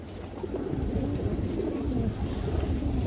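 Pigeons at a loft give a continuous layered cooing, many low, throaty calls overlapping into a steady murmur, close and moderately loud, with no speech.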